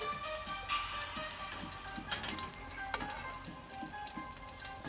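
Coconut-crusted shrimp fry in hot oil for a keto recipe, giving a steady, close sizzle with bubbling crackle and a few sharper pops, with no one talking.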